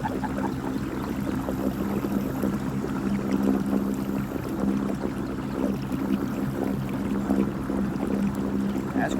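Tahe SUP-Yak kayak driven by a Watersnake trolling motor, picking up speed across open water: a steady low motor drone with constant water wash and splashing, loud and continuous without pause.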